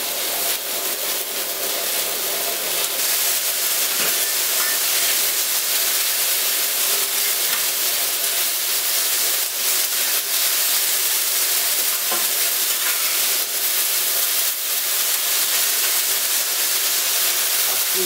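Cep mushrooms sizzle in olive oil on a hot plancha, a steady, close hiss of frying with occasional crackles throughout, with no talking.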